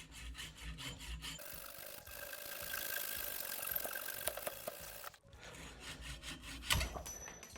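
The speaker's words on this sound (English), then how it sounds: "let's just cut it with a hacksaw." A hacksaw cuts through the steerer tube of a Trek bicycle during a full service, producing quiet, close, rhythmic rasping strokes that pause briefly before resuming.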